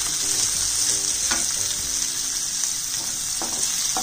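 Chopped onion sizzles steadily in a pan, a continuous bright frying hiss with occasional soft stirring scrapes, close and alone without any voices.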